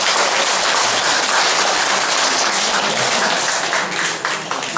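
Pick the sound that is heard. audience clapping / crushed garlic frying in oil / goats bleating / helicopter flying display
audience clapping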